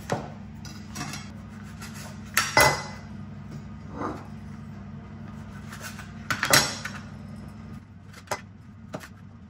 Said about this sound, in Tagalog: Gagamit ako ng malaking Pyrex